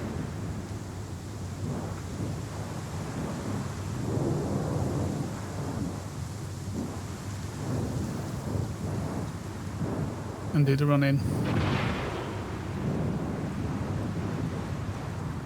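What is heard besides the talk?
wind blowing in the video game Star Citizen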